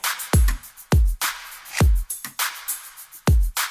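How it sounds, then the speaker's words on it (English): A future bass drum loop with heavy kicks and snappy hits, bright hi-hat taps filling the spaces between them in a steady quick pattern, loud and without voices. "After 4 bars, that's when the hi-hat comes in,"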